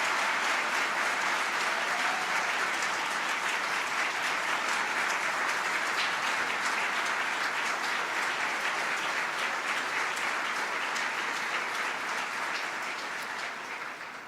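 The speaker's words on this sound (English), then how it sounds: "Let's give him a great big round of applause." Sustained audience applause fills a hall during Buffalo's State of the City address as the council president stands to be recognized, a dense, steady wash of clapping that holds evenly for about fourteen seconds before easing slightly at the end.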